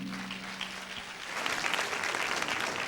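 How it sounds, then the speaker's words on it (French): Studio audience applause on a televised talent competition quarter-final, starting quieter with a low hum, then swelling into loud, dense clapping from about halfway through. "Applaudissez pour cela."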